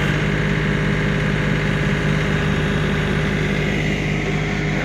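A John Deere compact tractor, a 2520 or 2025R, runs with a steady idling diesel drone, close and continuous, with no one talking.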